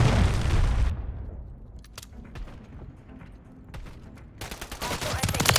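A cruise missile strike in Call of Duty on PS5 booms heavily at the start, then scattered gunfire pops and cracks before another loud burst of blasts and firing closes the stretch.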